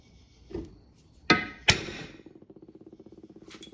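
A center punch is struck to dimple a start-hole mark in a metal engine mounting plate for a V8 go-kart, giving two sharp metallic strikes close together, with a lighter tap before them and a faint rapid rattling afterward.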